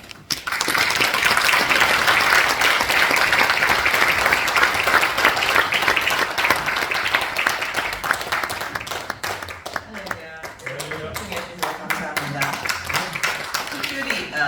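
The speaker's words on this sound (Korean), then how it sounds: "나오실 때 뜨거운 박수로 맞이해 주시면 감사하겠습니다." Audience at a church-hosted lecture on international affairs giving warm, loud applause as a speaker comes out, sustained dense clapping that thins after ten seconds as a voice begins speaking over it.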